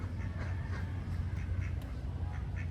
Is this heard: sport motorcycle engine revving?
no